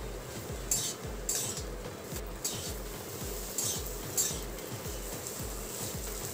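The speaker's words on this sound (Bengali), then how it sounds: "এখন এর মধ্যে দিয়ে দিয়েছি লবণ আর হলুদ। এটাকেও ভালোভাবে মিশিয়ে নেব।" A spoon stirs and scrapes through a mashed potato mixture seasoned with salt and turmeric for aloo chop, with steady repeated strokes and light clinks against the bowl, close and clear with no talking.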